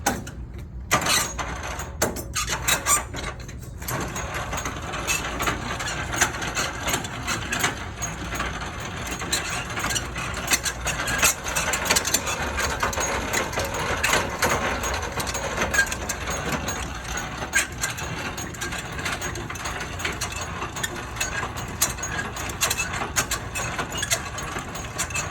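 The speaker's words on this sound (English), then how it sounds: "when you raise the landing gear, you gotta make sure that both sides go up," Semi-trailer landing gear is cranked up by hand, producing a long run of repetitive metallic clicks and grinding mechanism noise, close and steady throughout with no talking.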